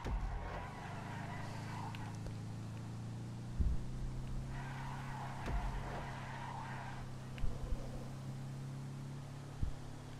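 A car drifts in GTA V, its engine droning steadily at moderate distance, with a few short thumps and bursts of skidding noise rising and falling over the hum, no talk.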